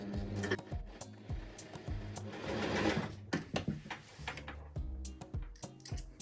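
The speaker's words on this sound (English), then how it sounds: "we're going to sew over the seam allowance here to keep it in place" A sewing machine stitches along a seam allowance on a summer top, its needle chattering in rapid bursts with short pauses between runs, close and steady.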